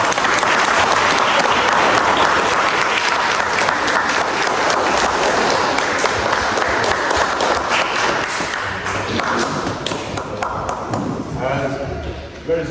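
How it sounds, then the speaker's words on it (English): A church congregation at Mass in Great Yarmouth claps together, dense sustained applause filling the space and gradually thinning toward the end, with voices murmuring underneath. "Can we give them a round of applause,"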